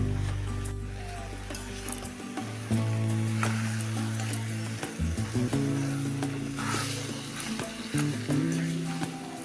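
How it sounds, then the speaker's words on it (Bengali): Boiled olives fry in a pan with salt and turmeric, a steady sizzle running under clattering, scraping stirring noises and occasional low tonal hum. "সাথে দেব পরিমাণ মতো লবণ আর হলুদ আর ভেজে নেব একটু"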